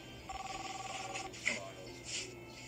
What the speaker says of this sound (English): I heard the phone.